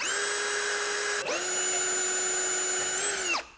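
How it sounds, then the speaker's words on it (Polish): Power drill boring screw holes to mount a Bison Gear table in a Toyota Land Cruiser 120, a steady high whine in two close bursts with a brief dip between, loud and near, no talk. "Mamy jeszcze trzy śruby do przyłożenia nawiercamy."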